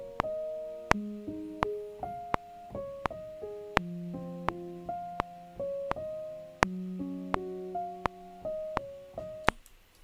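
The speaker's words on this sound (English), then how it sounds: "so we have our piano line" Simple, slow piano line for a trap beat, a sparse sequence of plucked notes and low chords with clear attacks, played alone, clean and close.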